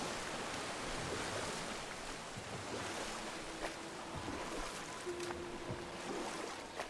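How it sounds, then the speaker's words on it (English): A boat paddling across open water in God of War, with waves lapping and wind rushing in a steady wash and occasional faint splashes and knocks, quiet and continuous with no talk. "we're just gonna keep paddling"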